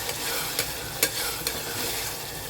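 Boti kebabs fry slowly in oil on low heat in a pan, a steady soft sizzle with a few brief stirring scrapes and pops.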